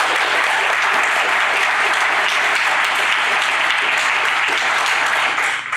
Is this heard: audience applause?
yes